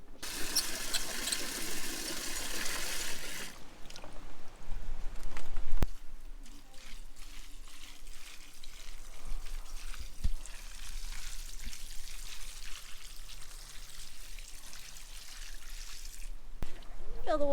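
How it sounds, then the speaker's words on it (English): Water rushes hard into a bucket in a horse's stable for a few seconds, then quiets to faint trickles, scattered knocks and soft shuffling in the stall. "Fill the water up for him because he won't drink from the automatic water feeders."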